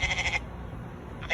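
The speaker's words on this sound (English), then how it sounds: "Is that a goat?" A farm goat bleats twice, short nasal wavering calls at the start and end, close and clear over a quiet outdoor background.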